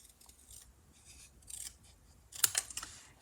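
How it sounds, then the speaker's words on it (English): Scissors trimming paper around a card sentiment: several quiet snips, then a louder, crisper cluster of cuts near the end, close up and with no talk. "I'm just gonna trim around my sentiment. So I'm gonna cut on this edge, and then I'm gonna cut across the top"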